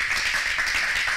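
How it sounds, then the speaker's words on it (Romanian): An audience at a celebration show claps in a brief, dense burst of applause that stays evenly loud for about a second. "Aplauze, vă rog frumos!"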